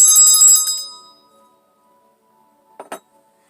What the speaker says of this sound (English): I have been feeling this need to incorporate a bell to clear the energy